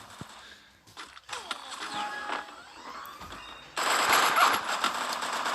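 Rapid automatic gunfire in a mobile shooter game, with bursts and clattering shots that grow louder and denser toward the end, heard alone without voices.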